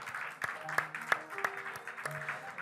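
A congregation claps at the close of a Korean Sunday church service, a short burst of scattered, fairly soft hand claps with distinct individual slaps.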